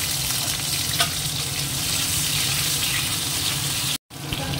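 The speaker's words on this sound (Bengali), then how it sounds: "আগে কড়াইতে দিয়ে দেবো হচ্ছে তেল, এটা গরম হয়ে গেছে, একটু আলুটা আগে ভেজে নেব" Potatoes frying in hot oil in a wok give a steady, close, dense sizzle that holds at an even level, with a brief dropout near the end.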